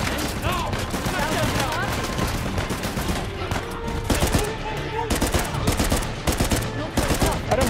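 Gunfire in Uncharted: The Lost Legacy rattles almost nonstop in dense rapid bursts, loud and close, with someone talking excitedly over the shooting.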